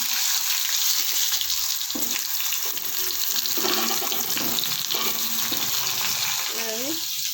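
Potatoes hit hot oil in a pan with dried red chillies for a vegetarian potato and pointed gourd dish, setting off a steady, loud sizzle while a voice speaks over the frying.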